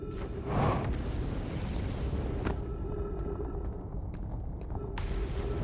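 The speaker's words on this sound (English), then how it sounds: "Yeah, there's a gravity cannon." A gravity cannon launches in the space exploration game Outer Wilds with a deep, rumbling burst and a steady low roar, broken by a few sharp clicks.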